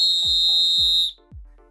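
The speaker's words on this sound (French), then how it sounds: "Tu effectues tout d'abord un coup de sifflet long" A single long, shrill referee whistle blast held for about a second, then cut off, with soft low thuds underneath.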